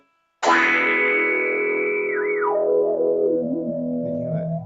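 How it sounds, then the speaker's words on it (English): A bright, bubbly guitar chord rings out through a Sonuus resonant envelope filter sweeping through it, swirling and wobbling as it sustains and slowly decays. "this is just a really sort of bubbly, resonant filter sound"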